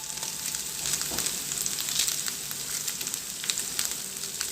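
The white part of spring onion sizzles in hot oil, a bright, even hiss with scattered crackles and pops that stays close and steady from start to finish.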